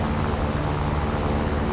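Yak-9P propeller fighter in a video game, its engine droning loud and steady throughout with a dense, unbroken roar.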